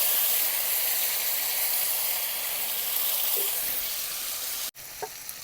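Cumin, mustard seeds, ginger and green chili hiss and sizzle in hot oil for a Bengali mochar ghanto, a steady close-up frying sizzle that breaks off with a sharp knock near the end.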